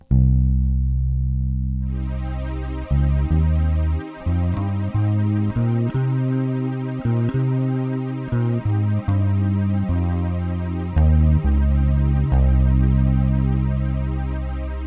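A sustained distorted electric guitar plays a Phrygian mode scale note by note, each tone ringing into the next, loud and unaccompanied.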